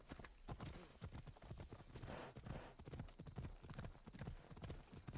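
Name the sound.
horse hooves clip-clopping in Assassin's Creed Odyssey video game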